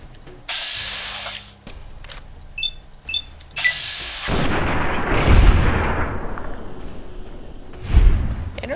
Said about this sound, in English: Energy weapons, good.